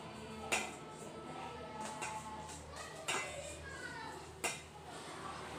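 A spoon clinks and scrapes against a bowl while milk powder and other ingredients for eggless yeast bun dough are mixed. A few sharp knocks stand out over a steady background of soft stirring, with no talking.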